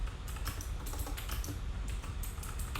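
Steady typing on a computer keyboard, a quick irregular patter of key clicks close by over a faint background hum.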